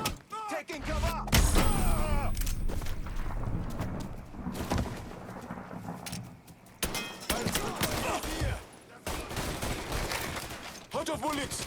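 Gunfire in the video game Mafia III, with repeated loud shots and bursts running through the whole stretch, mixed with shouting voices and talk over the top.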